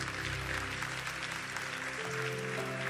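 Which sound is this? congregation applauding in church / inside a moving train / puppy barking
congregation applauding in church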